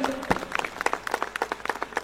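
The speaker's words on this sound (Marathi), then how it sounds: "एकदा जोरदार टाळ्या त्यांच्यासाठी होऊन द्या।" An audience at an Eknath Shinde political rally claps, with scattered, uneven hand claps rather than a dense roar, at moderate loudness.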